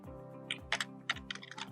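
Keystrokes on a computer keyboard as a git add command is entered, about a dozen quick clicks in uneven bursts, close and fairly quiet with no talk.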